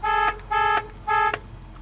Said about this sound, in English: 66 Mustang, horn.